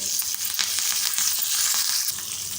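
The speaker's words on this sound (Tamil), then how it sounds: "லேசாக வேர்க்கடலை வெடித்து வர ஆரம்பிக்குது பாருங்கள்" Peanuts, mustard seeds, green chili and curry leaves sizzle and crackle steadily in hot tempering oil, a close, continuous frying hiss with small pops and no talking.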